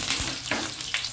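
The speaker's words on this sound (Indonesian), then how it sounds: "bawang putih kita tumis" Garlic and shallots stir-frying in a pan, a brief soft sizzle with a few quick scraping stirs.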